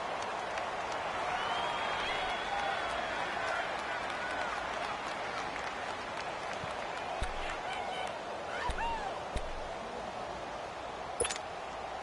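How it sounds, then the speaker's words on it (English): Stadium crowd noise in a Madden football video game, a broad steady roar of cheering spectators with a few sharp claps and pops, under continuous commentary. "Listen to this crowd now."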